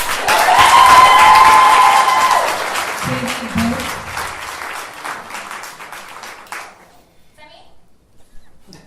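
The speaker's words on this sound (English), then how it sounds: "There's so much clapping I can't hear." Loud applause from a crowd at a school board meeting fills the room, with scattered cheers, then gradually thins out into sparse claps.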